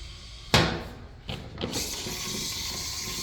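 Water runs steadily from leaking water fountains into buckets, with a sharp clunk and a couple of rattling knocks before a continuous trickling, splashing stream.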